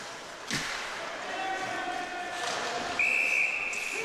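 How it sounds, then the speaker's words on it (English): A referee's whistle sounds for offside at an ice hockey game in a rink, a sharp sustained shrill blast near the end after earlier clatter from play, heard under continuous broadcast commentary. "Now we're getting a whistle. It's offside."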